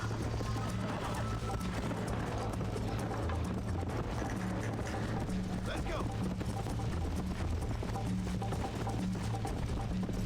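A horse gallops in the video game Red Dead Redemption, with steady, rhythmic hoofbeats under a continuous dense wash of game noise, moderately loud throughout.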